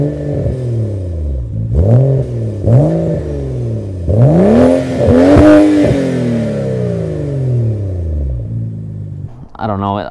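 A BMW 335i fitted with small glass pack mufflers revs repeatedly up and down, its deep exhaust rising and falling in several loud, close bursts, with a voice talking over it.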